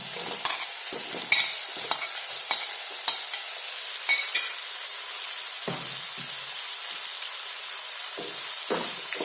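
Potatoes sautéed in masala in a pan for aloo palak, giving a steady sizzle with repeated scraping clinks from a spoon stirring throughout, close and alone with no talk.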